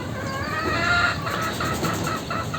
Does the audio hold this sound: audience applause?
no